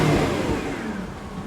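A 1999 Jaguar XK8 convertible's engine revs loudly and close, a steady throaty roar that eases slightly as the throttle settles, with no backfires or pops.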